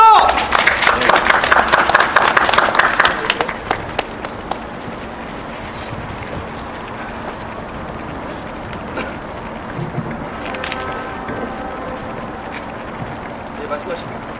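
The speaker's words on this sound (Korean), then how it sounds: "힘찬 박수 부탁드리겠습니다." A crowd at an outdoor March 1st independence commemoration ceremony claps briskly for a few seconds, then the applause fades into quiet background murmur and distant sounds.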